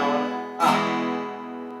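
An acoustic guitar chord strummed in a basic pattern, one sustained ringing chord followed by a brighter stroke that rings out and slowly fades, played alone.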